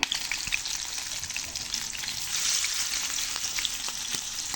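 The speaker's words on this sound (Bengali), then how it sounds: "এদিকে আমার তেল গরম হয়ে চলে আসছে, মাছগুলো দিয়ে দেবো" Pangas fish frying in hot oil for a pui shak bhuna, giving a steady, close, dense sizzle and crackle that swells slightly midway, with no voices.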